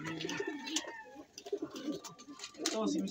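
A pet pigeon cooing nearby in a Filipino household, with soft repeated coos mixed with light chatter and background noise at moderate volume.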